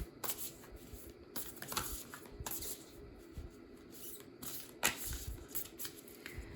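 Tarot cards are shuffled and drawn by hand, giving quiet, irregular bursts of riffling and papery flicks close by, with no talking.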